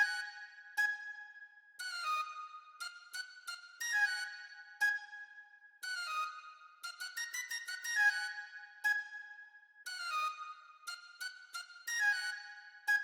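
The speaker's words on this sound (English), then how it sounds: "I have this Irish low whistle key preset, basically from Contact." An Irish low whistle preset from Kontakt plays a simple, repetitive melodic pattern in short phrases of quick notes separated by brief pauses, clear and solo with a soft breathy tone.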